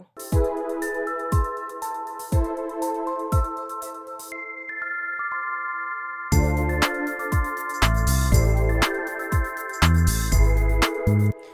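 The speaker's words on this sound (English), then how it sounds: "adding fake drops is a great way for you to add transitions to your song" A synth melody with steady plucked notes drops out into a brief pause of sustained tones in a fake drop, then slams back in with heavy bass and punchy drums.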